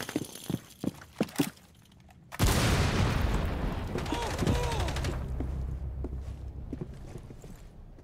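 A frag grenade detonates in a video game as a loud broadband boom that rolls into a long, rumbling decay of debris and echo, following a few sharp clicks and taps.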